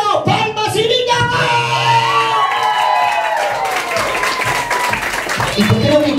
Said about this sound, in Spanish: ¡Público entero! ¡Palmas y gritos!